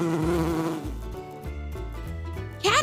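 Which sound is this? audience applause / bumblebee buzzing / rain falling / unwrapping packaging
bumblebee buzzing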